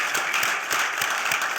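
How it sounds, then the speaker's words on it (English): An audience bursts into applause, a dense, lively patter of many hands clapping at once, loud and sustained for the whole moment. "Let's clap for that."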